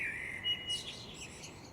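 A bird sings at night on a terrace in England, giving a clear, close run of high, bright chirps and warbled phrases over a steady background hiss.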